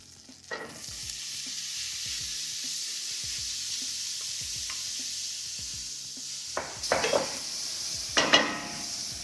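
One to two tablespoons of butter sizzle quietly in a pan, a steady soft hiss with small pops, a few light utensil clinks, and louder bursts of crackling near the end.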